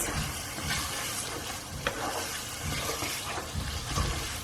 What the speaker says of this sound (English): So my canned chickpeas goes in. give that a good mix.